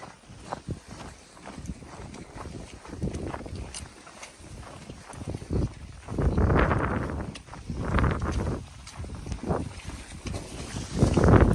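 Record-strong winter wind roaring across a snowy mountain trail on Hambaeksan, gusting in loud surges that batter the microphone, with scattered crunching footsteps beneath.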